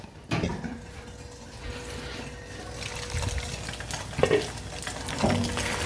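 A thin, crispy fried egg cooks in a covered pan with a steady, moderately loud frying hiss and bubbling, broken by a few soft knocks and clinks.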